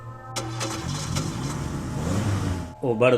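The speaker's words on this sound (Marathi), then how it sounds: "मास्तरांनी गाडी स्टार्ट केली" A car engine starts in an audio drama, cranking and catching into a steady mid-pitched idle that runs for a few seconds, with a brief sound at the end.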